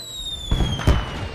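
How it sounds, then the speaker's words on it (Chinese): Fireworks exploding at a flower festival: two close, deep booming bursts in quick succession over sustained high tonal music. "哇，是花神节的烟花！"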